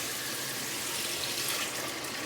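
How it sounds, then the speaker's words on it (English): Tap water running steadily over a freshly peeled loofah gourd at a sink, a continuous close splashing rush with no talk. "I might work on it a little bit with under the running water."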